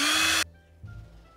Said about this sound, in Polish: Dlatego założyłem malutkie wiertełko, przewiercę się na wylot